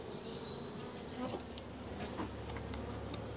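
Steady, dense buzzing of many honey bees close by at an open hive, a continuous hum with a few brief louder passes, no voices.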